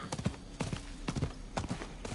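Horse hooves clip-clop in a steady galloping rhythm in Diablo IV, close and continuous with repeated hoofbeats, over faint game background.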